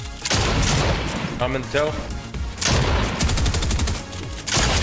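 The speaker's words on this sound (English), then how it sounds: "What a heavy shot I got on him." Dense bursts of gunfire in Fortnite, loud rapid volleys with a short gap, then heavy shots, close and overlapping, with someone talking briefly underneath.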